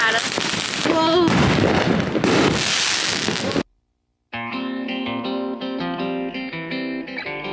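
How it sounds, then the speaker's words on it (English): Fourth of July fireworks in Nevada crackle and burst loudly for a few seconds while a voice speaks over them, then cut off abruptly to silence before music begins. "I'm doing a firework."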